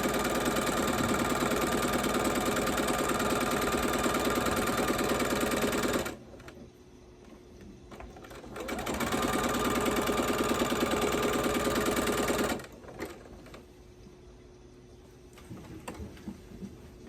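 A sewing machine stitches a quilt section in two long, steady runs of rapid mechanical whirring, separated by a short quiet pause, then falls silent. The sound is close and loud, with no talking.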